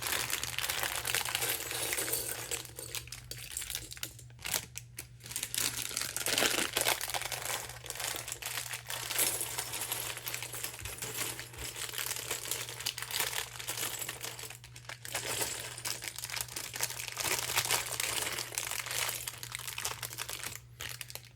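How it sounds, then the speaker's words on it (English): Crinkly paper packaging from LEGO-style building-set bags being torn open and handled, with a steady run of close crackling and rustling bursts over a low constant hum, with no talking. "Okay, crinkly paper."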